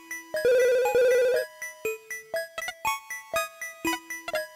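A retro electronic ringtone chimes from a payphone in an RPG Maker video game: a sustained buzzing trill, then a run of short, evenly spaced melodic beeps, clean and alone.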